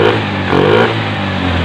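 A fuel-injected Honda farm-use motorcycle, its throttle body recently cleaned, revs briefly and roughly in one short burst at close range, with an uneven mechanical rattle over the engine note.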